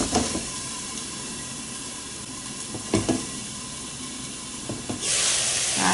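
Chicken drumsticks frying in a covered pan, a continuous sizzle and hiss with a few clunks and knocks, then a louder burst of sizzling near the end, and no talking.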